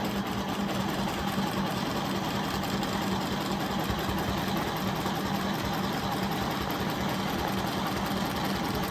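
A sewing machine set up for free-motion quilting runs continuously, a dense steady mechanical whir with rapid needle chatter that stays even in loudness for the whole stretch, with no pauses or talking.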